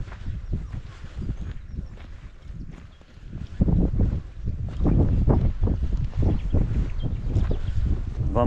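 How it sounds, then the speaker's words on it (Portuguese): Cold wind gusts across an old vineyard, buffeting the microphone with a rough, low rumble that swells and grows stronger partway through, with no voices. "Hoje está vento, está um vento frio."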